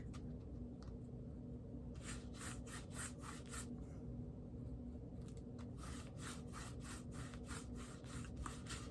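A fake cake with a frosting-like coating being sanded by hand, producing rhythmic scratchy rubbing strokes in bursts, close and fairly steady against a constant low hum.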